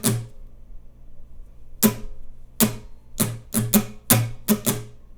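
An acoustic guitar is strummed in a down, down, up, up, down pattern for an easy arrangement of a pop song: about eight separate bright strums after a lone opening one, quickening toward the end, close and without accompaniment.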